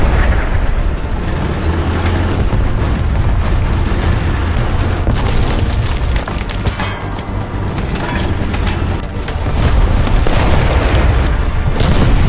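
Booming cannon fire from Char 2C heavy tanks in the War Thunder video game rolls on as a dense, continuous roar of low rumbles and blasts, loud and without pauses.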